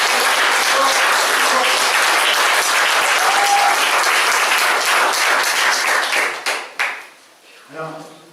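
Dense applause from a conference audience at a talk on free energy and cold fusion, loud and sustained for about six seconds, then thinning into a few scattered claps as it dies away.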